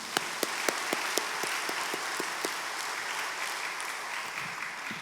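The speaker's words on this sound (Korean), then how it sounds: "우리 격려의 박수 한번 드리겠습니다" A church congregation at a Korean War memorial service gives a round of encouraging applause, a full steady clapping wash with distinct close claps in a regular rhythm, gradually thinning toward the end.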